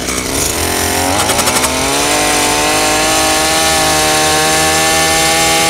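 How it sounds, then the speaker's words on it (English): A powered auger drills into compacted soil with a loud, continuous engine drone that is close up and steady, its pitch shifting slightly as the bit works down. "step on it while you're running the auger through there"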